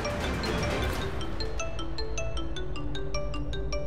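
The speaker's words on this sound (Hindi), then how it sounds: "Karan sir please pick up my phone" A phone ringtone plays a bright, repeating melodic tune of chiming notes, steady and fairly loud, with no talking.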